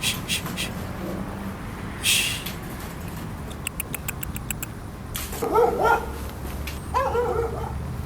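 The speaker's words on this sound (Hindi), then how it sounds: "ए कुत्ते, चुप चुप चुप हो जा, जा भाग भाग यहाँ से, चिल्ला मत" A dog gives a few short yips and barks over steady background noise, with two bursts of barking coming close together near the end.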